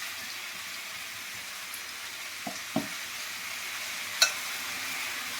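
Mustard seeds, cumin and turmeric fry in hot oil, giving a steady soft sizzle and hiss broken by a few short clicks and a sharper tap near the end, with no one speaking.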